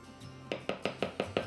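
A spatula scrapes a butter, milk and egg mixture around a bowl for blueberry baked oatmeal, producing six quick, evenly spaced scraping knocks after a soft start, close and distinct, with no talking.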